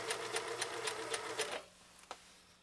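A 1974 Kenmore 1050 sewing machine stitches through four layers of fabric with a steady, fast rhythmic whir for about a second and a half, then stops, leaving one faint click.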